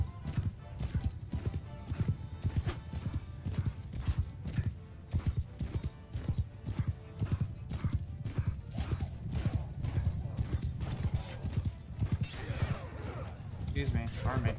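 Horses in Mount and Blade II: Bannerlord gallop with dense, rapid hoofbeat clip-clops, loud and continuous, with occasional neighing and voices talking over the pounding.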